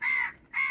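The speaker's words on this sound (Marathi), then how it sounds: "इकडे कावळा" Two loud, harsh crow caws ring out close by at Ratnadurg fort, separated by a short pause, with no other sound competing.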